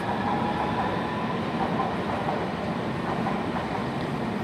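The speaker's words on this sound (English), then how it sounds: "departing out, like platform 15, the Circle Line service to Hammersmith" A London Underground Circle Line train pulls out of platform 15 at Paddington, a steady rumbling roar of wheels and motors filling the station without pause.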